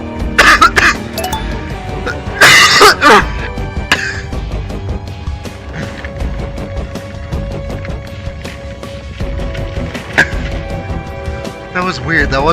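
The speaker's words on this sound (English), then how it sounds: "That was just a weird cough." A person coughs and clears their throat in several harsh bursts, loudest near the start and again around the middle, over a busy background of game sounds and music.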